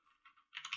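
Keys tapped on a computer keyboard while entering a browser address, a few faint clicks followed by a brief, slightly louder flurry of typing, close and without talk.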